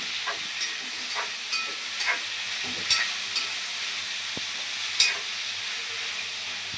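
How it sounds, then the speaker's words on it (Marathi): Onion and tomato fry with prawns in a hot pan: a steady sizzle with light, occasional scrapes and taps of a stirring utensil. "छान याला भाजून घेऊया आपण."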